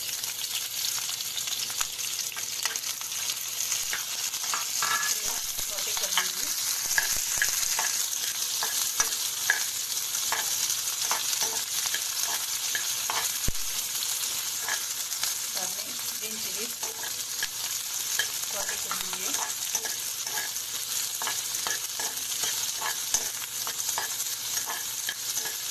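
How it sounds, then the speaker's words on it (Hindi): Sliced onions fry and get stirred in a pan for hotel-style soya chunks chilli: a loud, steady sizzle runs throughout, broken by repeated scraping stir strokes, with no talking. "अभी मैं ऑनियन डाल रही हूँ।"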